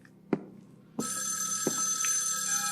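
A telephone rings continuously with a steady, bright electronic trill inside the horror video game Evil Inside, starting abruptly after a couple of dull thuds and carrying on loudly.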